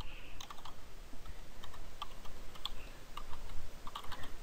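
Fast, light keystrokes on a computer keyboard, typed in quick irregular bursts that sit close and soft against a faint background hiss.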